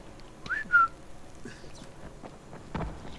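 A whistle sounds in the zombie video game Dying Light: two short rising-then-level tones in quick succession, clear and fairly close. Faint game ambience follows with soft thuds and rustles, and no one speaks.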